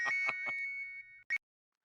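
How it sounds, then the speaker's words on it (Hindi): A phone rings with a bright electronic ringtone, a few warbling pulses that stop and give way to one short final chirp before silence. "हाँ, फिर से बासुंदी का फोन होगा"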